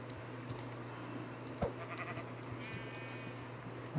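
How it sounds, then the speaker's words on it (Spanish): Sheep bleat a few times at moderate distance on a farm, short wavering calls standing out over a steady low hum and scattered clicks, with no one talking. "Oh, sí, ovejas."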